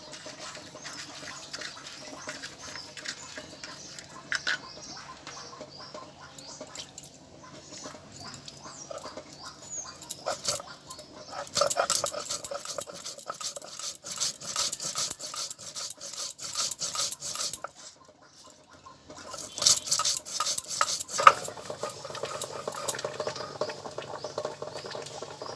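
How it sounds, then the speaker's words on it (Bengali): Coriander, fennel, cumin and chili being ground together on a grinding stone for an egg dish: repeated rough rasping and scraping strokes, coming in uneven bursts with brief pauses, close and moderately loud, no voices. "একসাথে এগুলো বেটে নেব।"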